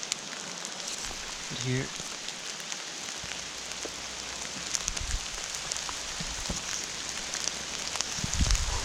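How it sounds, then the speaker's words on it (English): Outdoor rain falls in a steady, even patter with occasional nearby drips, and a voice speaks briefly over it. "the rain feels nice"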